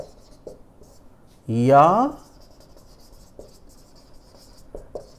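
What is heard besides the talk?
writing on a board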